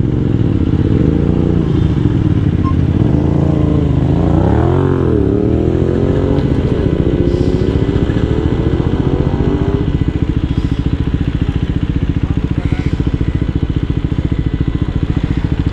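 A motorcycle fitted with a loud aftermarket exhaust riding on a road, with a steady, gritty engine drone and rising and falling revs, heard loud and close throughout.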